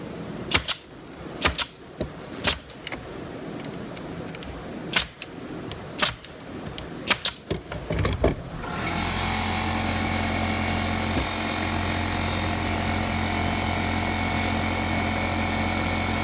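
A brad nailer fires brads into wood framing for T-joints and corners, giving about eight sharp, separate snaps spaced unevenly over the first half. After that a steady, loud compressor-like drone takes over.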